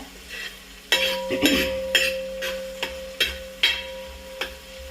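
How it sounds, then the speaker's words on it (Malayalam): Beef frying in a pan until crispy, with steady sizzle under repeated sharp clinks and scrapes of a utensil stirring against the pan, about six distinct knocks spread over a few seconds, close and fairly loud. "ഇത് ഒന്ന് അതിൻ്റെ അപ്പുറം ഒന്ന് ക്രിസ്പി ആയിട്ട് കാണാൻ വേണ്ടിയിട്ടാണ് ഈ ഒരു രീതിയിൽ വറുത്തെടുക്കുന്നത്"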